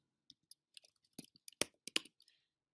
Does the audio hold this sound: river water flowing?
no